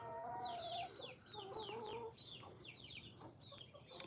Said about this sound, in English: Yep, and then we have our other chickens.